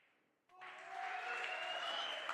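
Applause from an arena crowd at a 10-ball pool tournament bursts in after a brief quiet, swelling into steady, echoing clapping that fills the hall and carries on evenly.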